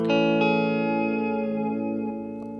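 A clean electric guitar chord played through a Chase Bliss Gen Lite pedal on a wow setting rings out and slowly decays, its sustain wavering gently in pitch over a couple of seconds, alone and fairly loud.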